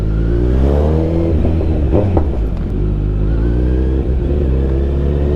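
A Ford Mustang's engine rumbles loud and near, a deep throaty roar with rising and falling revs that holds steady for several seconds with no talk over it.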